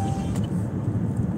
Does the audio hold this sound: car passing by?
yes